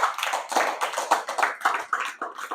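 Children clapping in a coaching-centre classroom, a quick run of uneven hand claps that is close and moderately loud, with no talk over it.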